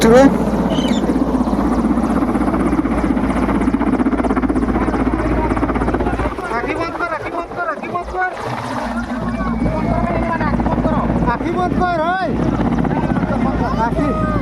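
An Indian Air Force helicopter arrives in a village, its loud, steady rotor thump and engine drone running throughout while people talk over it.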